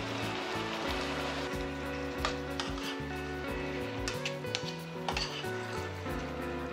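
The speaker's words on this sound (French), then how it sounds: "on va laisser nos légumes un petit peu mijoter à feu doux, feu moyen" Vegetables with curry and coconut milk simmer in a pan over low to medium heat, a soft continuous sizzle and bubble with occasional light clicks, under steady background music.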